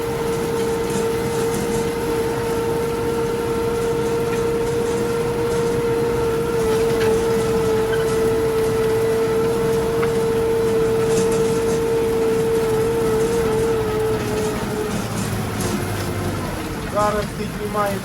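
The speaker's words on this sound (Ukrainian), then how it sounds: "Постійно крутиться катушка без перебоя" The reel of a seeder on an AG 2.4 seeding rig spins continuously during sowing, a steady mechanical hum and whine over a running tractor engine in the field, loud and unbroken throughout.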